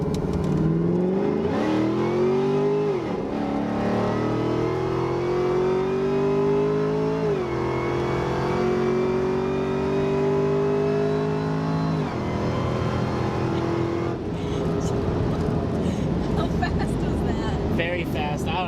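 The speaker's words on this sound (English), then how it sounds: "we're gonna do some pulls down this road in Mexico" A car on a road in Mexico accelerates hard through repeated pulls, its engine note climbing steadily through each gear before dropping at every shift, loud and continuous with road and wind roar; voices talk over it.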